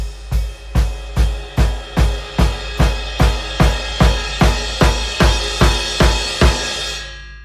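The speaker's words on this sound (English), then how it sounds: "these double stop crescendos, build-ups in volume between the snare, the ride, and the bass drum, and the ride is crashed" Loud unison hits on snare, crashed ride cymbal and bass drum, about a dozen evenly spaced strikes building over several seconds into a ringing cymbal wash, with no talking.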